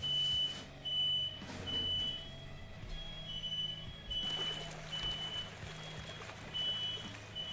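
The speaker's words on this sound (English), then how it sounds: "Fire alarm." A fire alarm sounds a repeated series of short, high electronic beeps in irregular bursts, moderately loud over low background rumble and clatter.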